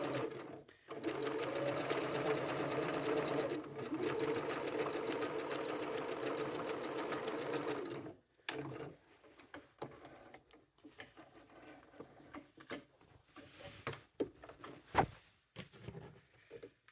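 Sewing machine stitching seams on a tote bag, running loud and steady for about eight seconds, then stopping and leaving quieter handling clatter and small knocks.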